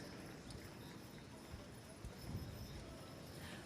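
Percheron draft horses move through a show ring at the World Percheron Congress, their hooves making faint, muffled clip-clop beats beneath a steady arena murmur and a distant announcer's voice.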